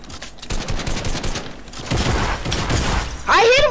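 Rapid gunfire in Fortnite, a dense run of close, loud shots landing on an enemy, with a brief hit or ricochet chirp near the end and talking over the action.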